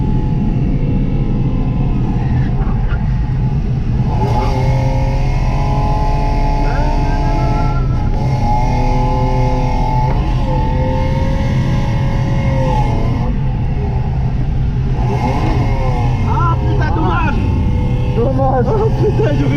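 BMW E36 race car driving on a track, a loud constant engine drone from inside the car with gear-driven whine rising and falling through shifts, under occasional speech.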